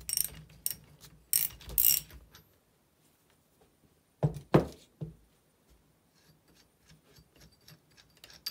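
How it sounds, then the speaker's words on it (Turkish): A socket wrench ratchets on the alternator pulley nut of a Fiat 126 BIS during a bearing repair, with short bursts of ratcheting clicks followed by a few sharp metallic knocks, all fairly quiet. "veya yıldız anahtarıyla sökebilirsiniz."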